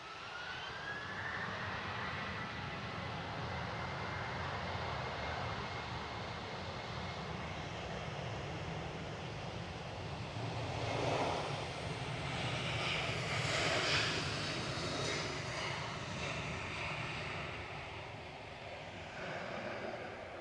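Airliner taking off and climbing away from Manchester Airport on a stormy day, a sustained jet engine roar that swells midway and then slowly fades as the aircraft climbs, with steady wind noise throughout.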